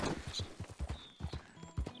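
Hooves of a horse in Red Dead Redemption 2 clip-clop in a quick, even rhythm, fairly close, with a brief whinny, and a faint voice in the background.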